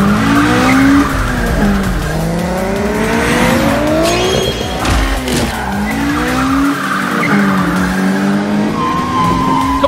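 Toyota Corolla racing in BeamNG.drive, engine pitch sweeping up and down through gear changes with screeching tire squeal and skids, loud and continuous with no talking.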